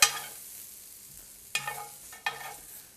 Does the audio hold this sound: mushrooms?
yes